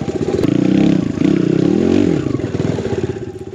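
Enduro motorcycle riding a rocky trail, a close, pulsing engine that revs up and down in uneven bursts, with clatter and scraping from the terrain.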